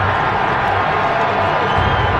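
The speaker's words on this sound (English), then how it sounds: "listen to the crowd" A large football stadium crowd roars in a dense, sustained wash of cheering that stays loud and even throughout, with no clear voices standing out.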